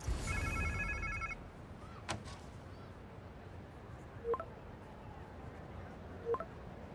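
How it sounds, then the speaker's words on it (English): A phone rings in the video game Spider-Man 2 on PS5 with a rapid electronic trill at the start, followed by quieter clicks and short tones against a low background hum. "Sounds like somebody's phone."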